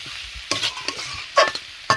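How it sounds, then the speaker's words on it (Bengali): Jackfruit curry with potatoes is stirred in a pan, giving a few scraping strokes of a spoon at irregular intervals over a soft sizzle, close and fairly quiet. "আবারও নাড়িয়ে দিচ্ছি।"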